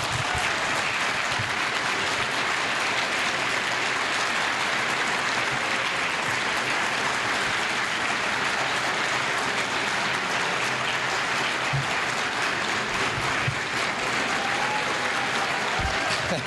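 Sustained applause from a luncheon audience at a Turkish-American chamber of commerce event in Houston, a broad steady roar of many hands clapping that continues unbroken for the whole stretch.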